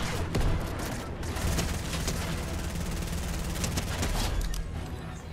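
Dense gunfire in the Fortnite video game, rapid overlapping shots and bursts crackling continuously at moderate level, with no talk.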